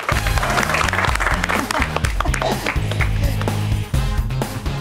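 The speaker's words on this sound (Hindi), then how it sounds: "तालियां" Studio audience applause on an Indian TV comedy set, loud and continuous for several seconds over a steady rhythmic music bed with a repeating low beat.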